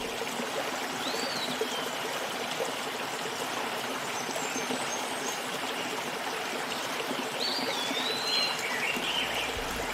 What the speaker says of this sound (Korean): 자연의 소리를 들려드릴게요.